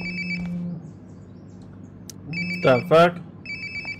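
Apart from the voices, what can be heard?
phone ringing in Life Is Strange: Before the Storm video game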